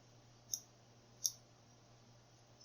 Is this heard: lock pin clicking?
yes